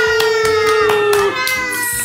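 Hands clap in a steady rhythm during a children's toy circus show, eight or so crisp claps over a held musical tone, with a voice mixed in.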